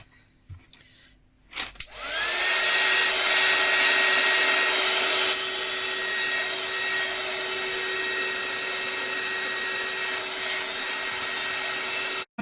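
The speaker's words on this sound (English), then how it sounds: "Then I'm going to give it a dry with the heat gun." Heat gun drying blended ink on a card, switched on after a couple of soft clicks and handling noises, then a steady loud whooshing blower hum with a constant whine, cutting off abruptly at the end.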